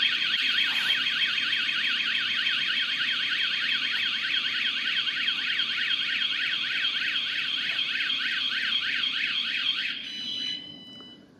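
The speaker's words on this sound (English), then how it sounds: "it's a powerful, audible alarm that draws attention to criminal activity" VanGuardian dual van alarm blaring at around 110 decibels, a loud, rapidly warbling electronic siren pulsing steadily for about ten seconds before cutting off abruptly with a brief beeping tail.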